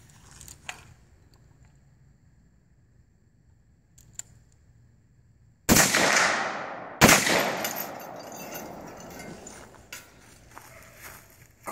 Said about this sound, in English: We're shooting some steel targets.